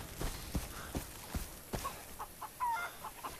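A chicken in Far Cry 3 clucks in short, soft bursts over faint rhythmic footstep-like thumps, ending with a brief higher-pitched squawk.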